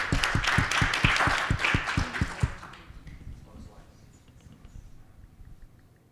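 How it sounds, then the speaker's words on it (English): Audience applause with steady rapid clapping that builds and then fades out over a few seconds, leaving a quiet room at a London startup-investor pitch event. "Big round of applause."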